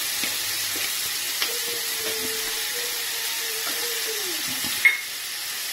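Vegetables sautéing in a pan with tomato sauce, a continuous close sizzling hiss with occasional stirring scrapes and a sharper clink of a utensil toward the end.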